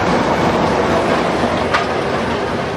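A train rolls past loudly with a steady rushing roar and a brief high screech partway through.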